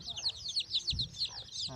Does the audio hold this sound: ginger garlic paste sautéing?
no